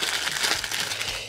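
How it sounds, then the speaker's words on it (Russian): A plastic bubble-wrap packaging bag from an overseas parcel holding two watches is handled up close, giving a brief, continuous crinkling and rustling. "Вот такой пакетик с пупырышками."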